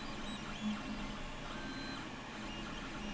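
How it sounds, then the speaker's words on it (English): Creality Ender 3 3D printer running, its stepper motors giving a steady whirring hum with faint tonal whines shifting in pitch over a continuous mechanical drone, no voices. "You can hear all the steppers running."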